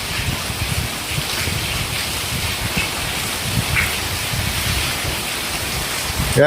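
A broad steady wash of rainwater running through a maize field and rain-like hiss, with wind noise buffeting the microphone throughout.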